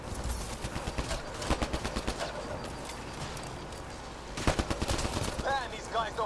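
Gunfire in the sci-fi shooter Mass Effect Andromeda, with dense, crackling volleys of shots that surge in two louder bursts over a steady combat background, mixed with sharp chirping effects near the end.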